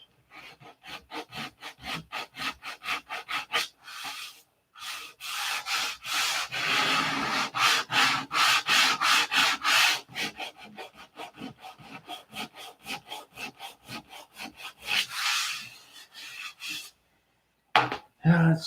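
Hand sanding paint with 320 grit sandpaper, a rapid, rhythmic scratchy back-and-forth rubbing, close and loud, in steady bursts with a few short pauses.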